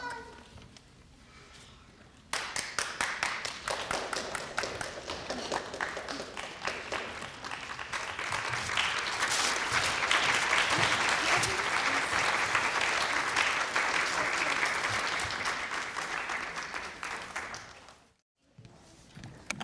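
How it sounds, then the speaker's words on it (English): An elementary school audience at a district literacy competition applauds for a long stretch, loud, sustained clapping that swells and then fades, with a short break near the end. "Let's give another round of applause for Live Oak Elementary School."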